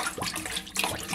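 Flowing water used as a sound effect in a radio play, a soft continuous splashing and gurgling like a running stream, quiet and heard alone.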